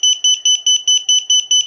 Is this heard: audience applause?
no